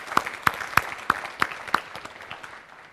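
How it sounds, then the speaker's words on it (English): A scattering of people clap, the sharp claps fairly loud at first and thinning out toward the end; a small audience rather than a large crowd. "a big round of applause for Brian."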